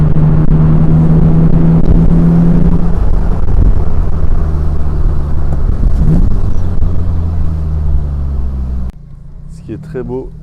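A Morgan Plus 4 with a 2-litre, 145-horsepower engine drives along, its steady low rumble sustained under someone talking, then cutting off abruptly near the end.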